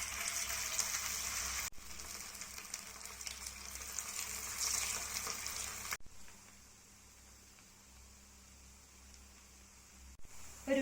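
BDF, a Kerala-style flatbread, fries in oil in a pan with a steady close hiss and sizzle, broken by a couple of short handling gaps.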